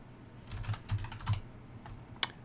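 Typing on a computer keyboard to enter a search for mixer gear pieces in New World, a short run of soft, close key clicks with a sharper single tap near the end and no talk.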